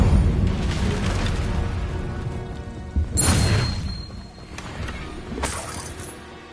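Incendio fire spell cast in Hogwarts Legacy, with a steady whooshing roar interrupted by two sharp bursting flares about two seconds apart, close and fairly loud.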